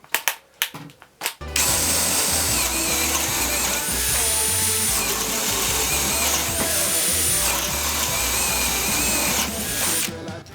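DeWalt DCD100 cordless drill boring into wood with a 22 mm Forstner bit: a few short clicks and bumps, then a loud sustained motor whine with a grinding cutting edge that stops abruptly near the end.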